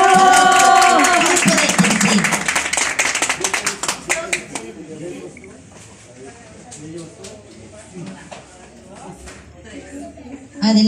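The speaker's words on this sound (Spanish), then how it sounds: "Les pido un fuerte aplauso" An audience claps for a children's choir at a live event, a burst of brisk applause that thins into scattered claps while people talk over it.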